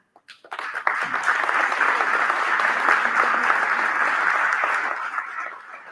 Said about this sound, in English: So you can all give yourself an applause